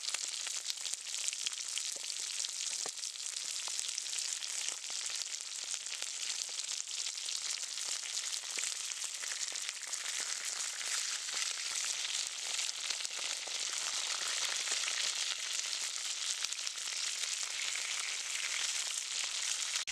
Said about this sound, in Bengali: আমার এক প্লেট মাছ ভাজা হয়ে গেছে মাছটা আবার উল্টিয়ে দেবো